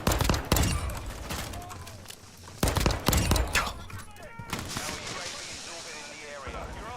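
Video game gunfire: quick bursts of rapid shots, loud and close, with pauses between volleys and trailing echoes, over background game sounds.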